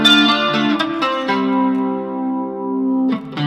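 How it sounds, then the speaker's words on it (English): A modern amp with jazz-style chorus and heavy reverb shapes an electric guitar: a few strummed chords ring out with a shimmering, sustained wash that slowly decays, loud and close with no talk. "Put tons of reverb on it as well."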